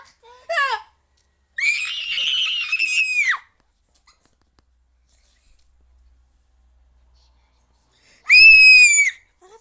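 A person screams shrilly during play of a horror video game, with one brief yelp followed by two sustained, loud high-pitched screams separated by several seconds of near silence.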